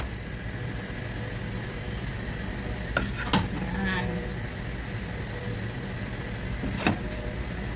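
Sotanghon glass noodles with vegetables are stirred in a pan over a constant frying sizzle, with a few sharp scrapes and clatters of the utensil near the start and again later.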